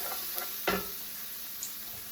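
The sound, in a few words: stirring vegetarian dish in a hot pan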